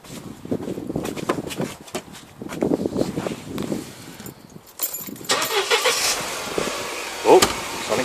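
A Mercedes CLK 230 with an SLK supercharger is started up: shuffling and key jangling come first, then the engine catches and settles into a steady running hum for the last few seconds.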